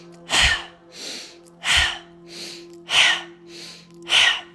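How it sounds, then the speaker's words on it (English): Breathwork: six loud, forceful breaths alternating between a sharp inhale through the nose and a longer exhale out of the mouth, at an even rhythm, close up over a faint steady hum. "now we're going to do big inhale through the nose and a big exhale out of the mouth"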